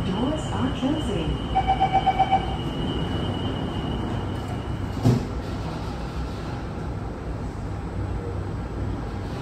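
Inside a moving Singapore MRT train, a rapid series of door-closing warning beeps sounds, then a doors-closing thump, with steady rail rumble and faint announcements.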